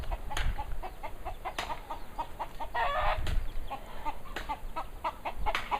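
Chickens cluck in a busy scatter of short calls near the coops, moderately close, with a few louder squawks standing out and no speech.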